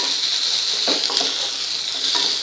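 Fried capsicum thecha being stirred into sautéed onions in a hot pan: a steady sizzle and frying hiss with a few soft scrapes of the spoon, close and continuous.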